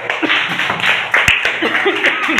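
A small group, likely children at a quiz contest, clapping briefly and unevenly, with a few sharp close claps amid light chatter and soft laughter.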